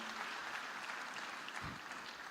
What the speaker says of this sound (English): I think we should just give ourselves a round of applause for that as well.